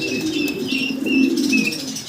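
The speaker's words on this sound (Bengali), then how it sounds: "আমরা এখানে সিঙ্গেল সিঙ্গেল দুই পিস কবুতর দেখতেছি" Pigeons at a pigeon market flap their wings in short fluttering bursts, close by, with faint chirps and coos mixed in over a steady background.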